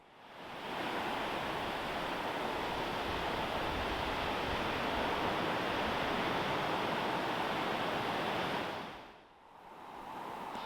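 Surf rolls in along the rugged, rocky coast at Marsland Beach on the Devon–Cornwall border, a steady loud wash of breaking waves that briefly dips before rising again, with no voices.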